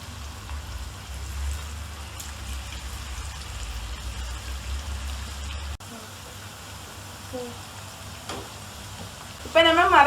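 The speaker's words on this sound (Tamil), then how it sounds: "நம்ம இப்போ ஒன்றா போட்டு ஃப்ரை பண்ணி எடுக்க போகிறோம்" Cauliflower pieces for crispy chili gobi frying in hot oil, giving a continuous close sizzle and bubbling hiss that drops in level partway through, with a voice talking at the end.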